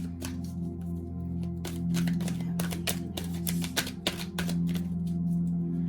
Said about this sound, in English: I will do like 2 more shuffles, you guys, for these cards